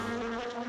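Cartoon robot bee giving a short, steady, high-pitched electronic buzz, close and continuous with no pauses.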